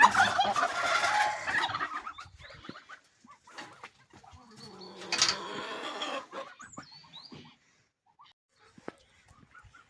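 Several turkeys gobble in bursts, loud at first and then scattered, with softer clucks and rustling in between and quiet stretches near the end.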